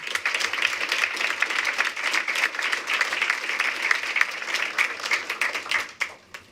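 A school board meeting audience breaks into sustained applause, dense clapping from many people that stays level before tapering off at the end.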